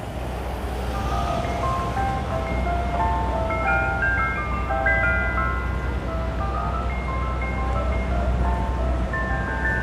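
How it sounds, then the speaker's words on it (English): An ice cream truck's chiming tune, The Entertainer, plays steadily at moderate distance on a street in Manhattan's Financial District near Battery Park, over a constant low rumble of city traffic and wind. "That is the entertainer as performed by the ice cream truck."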